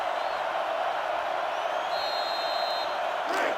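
Sellout stadium crowd in NCAA Football 2005 roaring steadily, a dense continuous wall of cheering that holds at constant loudness, with a brief sharp whistle-like swell near the end.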